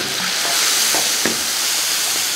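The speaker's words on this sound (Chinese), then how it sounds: "刚刚放下给炒一下" Ginger, garlic, chili, carrot and Sichuan pepper are stir-fried with a steady, loud sizzle, and a few spatula scrapes and taps stand out close by.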